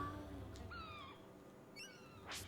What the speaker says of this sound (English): Those are that's seagull sounds.